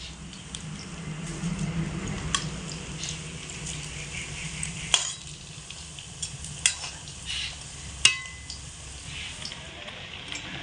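Potato pakoras sizzle steadily in hot oil in a pan, with sharp clicks and scrapes from the utensil as they are stirred and flipped. No one speaks.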